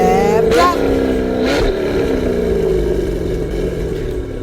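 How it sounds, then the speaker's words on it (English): Corvette V8 engines rev at an autocross competition, a loud close roar climbing and falling in pitch with a couple of sharp throttle blips and then settling into a steady rising drone. "listen to the sweet V8 music from the autocross competition"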